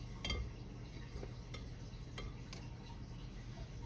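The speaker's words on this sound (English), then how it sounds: "you're gonna mix this up in here, get all that off the side, off the bottom" Lemon cookie dough being stirred and scraped around a mixing bowl, soft steady scraping with a few light taps of the utensil against the side, close and quiet.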